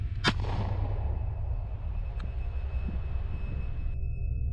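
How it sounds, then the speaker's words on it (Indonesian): Warning gunshot fired outdoors to scare off a lion: one sharp, loud crack near the start, then a long fading tail over a low rumble of wind or engine noise. "dia akan menembakkan tembakan peringatan untuk menakut-nakuti"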